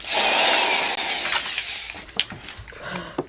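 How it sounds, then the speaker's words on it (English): A power drill whirs loudly for about a second and then stops, followed by scattered scraping and rattling handling sounds nearby. "I just want to drill things."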